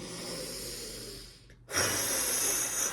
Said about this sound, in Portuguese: Essa é a respiração, ó.